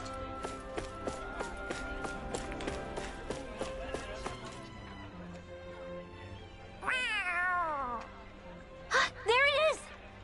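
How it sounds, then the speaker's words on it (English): A cat meows in the Tales of Arise video game, with two or three clear rising-falling meows near the end, preceded by rhythmic game music and tapping footsteps. "So, we are following a cat now."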